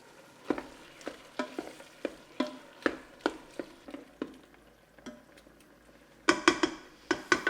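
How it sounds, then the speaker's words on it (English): Ground beef frying in a pan for a taco casserole, with a low sizzle and steady, evenly spaced scrapes of a spatula stirring the meat, close and fairly quiet, a cluster of louder scrapes near the end, no talking. "All right, so the ground beef is almost completely cooked."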